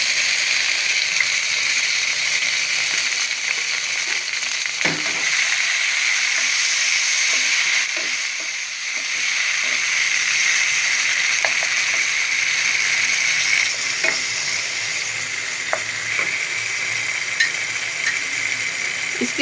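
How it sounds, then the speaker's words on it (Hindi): Chopped tomatoes fry with browned garlic in a pan, a loud continuous sizzle close up, broken by occasional clinks and scrapes of stirring. "इसके साथ हमने ये हमारा लहसुन जो है तो थोड़ा थोड़ा ब्राउन सा हो गया है। इसके साथ हम इसमें ऐड करेंगे ये टमाटर है,"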